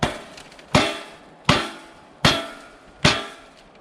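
Four sharp hammer blows knock a hunting tree stand part into place, each a crisp metallic strike spaced evenly about three-quarters of a second apart, close and loud with brief ringing decay.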